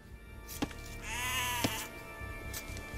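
A sheep in Age of Empires II lets out one clear, wavering bleat in the middle, moderately loud, with soft clicks and game ambience around it.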